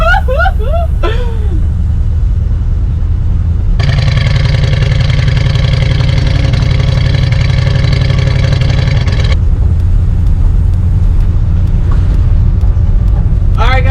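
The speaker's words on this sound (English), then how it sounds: "we're freaking driving the 962 C10. It drives really, really good." A classic Chevrolet C10 pickup with a 350 V8 drives along, its loud, close engine droning steadily throughout with a denser, rising stretch in the middle.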